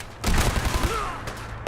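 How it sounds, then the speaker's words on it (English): A shotgun fires in Fallout 4 Far Harbor, giving a burst of rapid heavy blasts close by, then a brief pause and another sharp shot, with no speech over the fire. "Whoa, that's a high caliber weapon. Oh, that's a shotgun."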